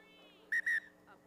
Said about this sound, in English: the referee whistling, asking to redo